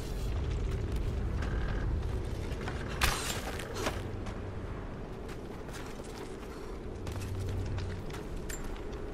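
A truck wrenching a door free in Rise of the Tomb Raider, with a continuous engine rumble, metallic creaks and groans, and a couple of sharp cracking strains as the door gives way.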